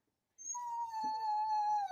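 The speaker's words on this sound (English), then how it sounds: "This dog, man, this dog is too freaking smart" A dog lets out a single drawn-out, high whining whimper that rises and slowly falls, close and fairly loud, following a short quiet moment.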